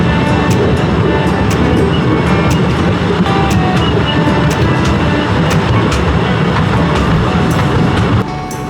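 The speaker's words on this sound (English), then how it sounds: "Nice bit of journey this train ride." Constant loud rumble of a train in motion heard from inside a carriage in Italy, with faint rhythmic clicks from the rails throughout.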